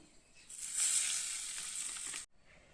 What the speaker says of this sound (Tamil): ஒரு சிம்பிளான தாளிதம் தாங்க கடலப்பருப்பு பருப்பு கடுகு கருவேப்பிலை அவ்வளோதான்